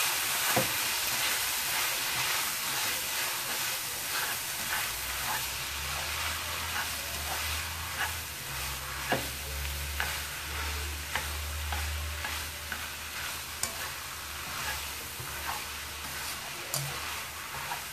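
Vegetarian lo mein noodles stirred in a frying pan with sauce, a steady close sizzle and hiss running throughout with repeated scraping and clinking of the utensil against the pan.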